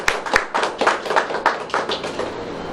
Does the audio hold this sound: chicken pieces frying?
no